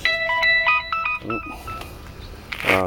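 A mobile phone plays a rapid series of tonal beeps like a ringtone, with short chirping notes and a brief buzzing vibration near the end, close and fairly loud.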